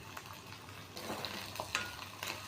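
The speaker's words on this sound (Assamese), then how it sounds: "এতিয়া মই পিঁয়াজখিনি তেলত দি দিছোঁ আৰু লগতে দি দিছোঁ নহৰুৰ পেষ্টটো।" Onions and garlic paste fry in oil in a pan, a quiet steady sizzle broken by light scraping stirs and small clinks.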